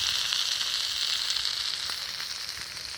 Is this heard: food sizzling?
yes